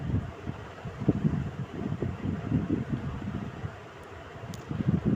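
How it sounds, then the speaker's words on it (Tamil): A mixer grinder whirs steadily at close range, blending boiled carrots and nuts into a smooth puree for a one-year-old, a dense low churning roar with no voices throughout. "இதை நல்லா நைஸாக அரைச்சி எடுத்துக்கலாம்"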